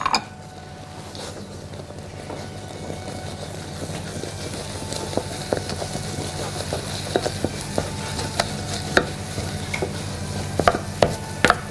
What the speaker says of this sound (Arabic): وأول ما تتكور هنفضل نقلب فيها عشان ننشفها شوية